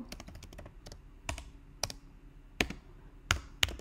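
Typing on a computer keyboard while writing text into a Genially presentation, with a steady run of light key clicks and several louder, sharper keystrokes standing out at irregular intervals, close and without talk.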